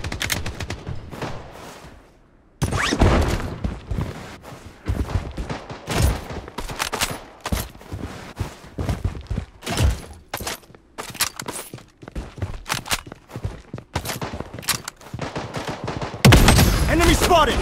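Rapid bursts of gunfire from the battle-royale shooter Project Blood Strike, with dense crackling volleys and isolated shots recurring throughout at close range, broken by a short quiet gap and mixed with game voice callouts.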